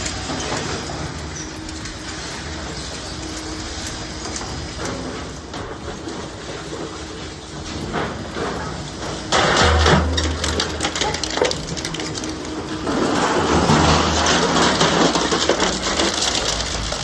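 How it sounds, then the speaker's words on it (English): An industrial metal shredder crushes copper radiators and stainless scrap, a continuous loud grinding and clattering roar with rattling metal, growing heavier in surges toward the end, with no talk. "Watching this monster crush copper radiators and stainless scraps feels both terrifying and strangely satisfying."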